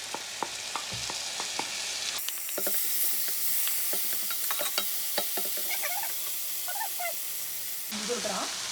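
Red peppers and carrots hit a hot frying pan, setting off a steady, close sizzle and fry that holds for several seconds, with scattered stirring clicks and scrapes throughout.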